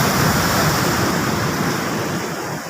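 Loud surf roars continuously, with large storm-driven waves after a typhoon breaking close by and wind rushing across the microphone.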